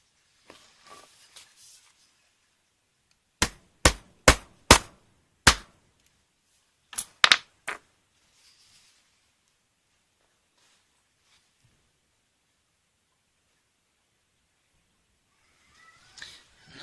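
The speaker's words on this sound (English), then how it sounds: "the next thing you'll see is me driving the hammer on it" A hammer drives a metal snap onto the fabric of a pair of pants with two bursts of sharp, loud strikes, about five evenly spaced blows, a pause, then three more, set in near silence.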